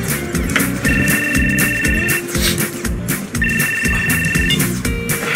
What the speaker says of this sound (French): Jennifer, c'est ta maman au téléphone.